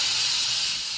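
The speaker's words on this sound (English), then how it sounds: "Steam release sound effect?" A steam release sound effect, one loud continuous hiss that holds steady and fades only slightly at the end, with no other sounds.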